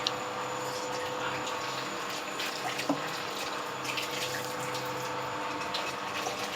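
Water runs continuously from a tap into a container, a steady hissing splash at moderate level with a faint mechanical hum underneath and no clear talk.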